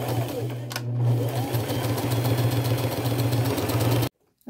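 A sewing machine runs steadily, stitching a guide stitch along velvet fabric with a loud, even mechanical hum and whir, then stops abruptly at the end.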